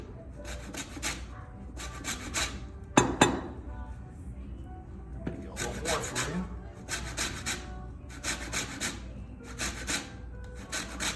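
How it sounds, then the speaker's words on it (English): Lemon zest is grated on a handheld home grater, a close rhythmic scraping repeated in short bursts of strokes with brief pauses between them, plus a sharp clink partway through. "I'm just gonna grate it in one of these home graters."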